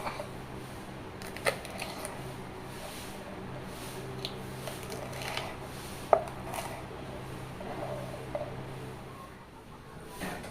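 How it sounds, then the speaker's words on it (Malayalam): Chilies, stems removed, are sliced lengthwise into thin strips with a knife on a board, giving scattered soft cuts and occasional sharper taps against a low background hum, without talking. "മുളകിൻ്റെ ഞെട്ടെടുത്തതിന് ശേഷം അതും സെയിം കനം കുറഞ്ഞ രീതിയിൽ നെടുകെ മുറിച്ചെടുക്കുക."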